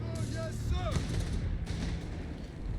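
Mortar and artillery fire in a Company of Heroes 3 match, dull booms and rumbling impacts with a whistling incoming shell, heard under a commentator's continuous talk.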